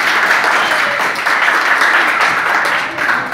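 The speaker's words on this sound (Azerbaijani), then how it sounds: "Finalçıları alqışlayın uşaqlar." Children applaud quiz finalists at a geography word contest, a dense, steady burst of clapping from a group filling the room throughout.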